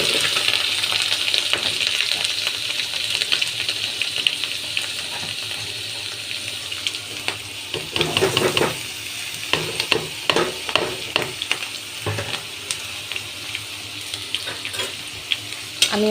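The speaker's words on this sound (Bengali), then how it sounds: "তেল দিয়েছি, তেলটা গরম হয়ে গেছে। এখন আমি শুটকিটা ঢেলে দেব।" Onion and dried fish (shutki) fry in hot oil with a steady hiss, then clattering stirs and scrapes grow busier partway through, close and fairly loud with no speech.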